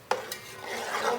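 Spices being stirred into mutton yakhni pulao in a pot, giving a short scraping stir with a soft sizzle and spoon clinks, close and fairly quiet, no voices.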